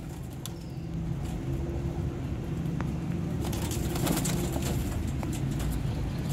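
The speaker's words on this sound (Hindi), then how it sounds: "ये हैं जी नायाब सियालकोटी छत वाले कबूतर।" Soft, low cooing of Sialkoti rooftop pigeons under steady outdoor background noise, with a few faint flutters and light taps.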